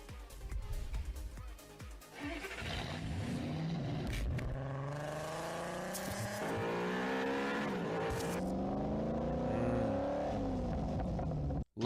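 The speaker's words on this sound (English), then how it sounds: "Love those car sounds" A car engine in Car Mechanic Simulator 2021 revs and accelerates, its pitch rising and falling through several climbs, with brief tire squeal, loud and close throughout.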